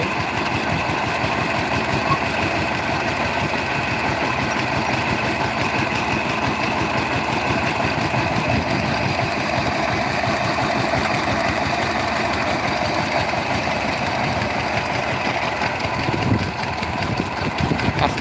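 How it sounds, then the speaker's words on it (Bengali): A small power tiller engine idles steadily nearby, a continuous droning rumble with a rattling vibration that holds constant throughout. "এবার একটু আমরা আমাদের মেশিন ইঞ্জিন পাওয়ার টিলের কাছাকাছি যাই"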